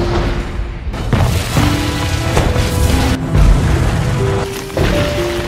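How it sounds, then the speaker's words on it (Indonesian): Long-range cannon fire bombards a Shaolin temple in a dense, loud battle mix, with heavy booms and crashes under continuous roaring noise and brief tonal swells throughout. "dia berniat menghancurkan kuil Shaolin dengan meriam jarak jauh"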